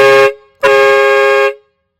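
Hart dual train horn gives two loud close blasts, a short one followed after a brief gap by a longer sustained chordal blare that cuts off cleanly into silence.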